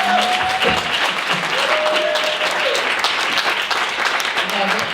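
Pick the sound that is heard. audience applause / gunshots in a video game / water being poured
audience applause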